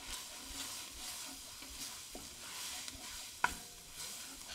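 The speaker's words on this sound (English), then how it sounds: "Give it a stir." Flour being stirred into chicken soup in a pot, heard as a faint, quiet sizzle with soft scraping strokes and one sharp clink of the utensil against the pot.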